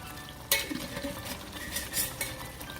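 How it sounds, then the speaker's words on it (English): Chicken curry being stirred in a pot, a spoon scraping and knocking against the metal in a few quick strokes over a soft simmering sizzle, close by with no talk. "Give it a good stir."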